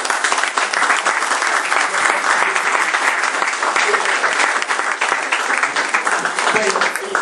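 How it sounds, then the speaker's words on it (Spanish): Everyone in a gathering joins in loud, continuous applause, with dense clapping that holds steady throughout and voices faintly mixed in underneath. "Aplausos de todos."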